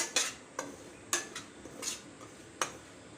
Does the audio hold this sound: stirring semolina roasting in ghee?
yes